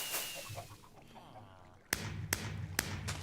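Fireworks shoot in several colours from the top of a smokestack in Minecraft 1.13.2, heard as three sharp, loud launch pops spaced about half a second apart over low game ambience.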